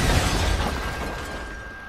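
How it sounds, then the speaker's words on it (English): A dynamite explosion in Red Dead Redemption 2 roars as one loud, broad blast that rumbles and slowly fades over two seconds, with no talking. "Cool guys don't look at explosions."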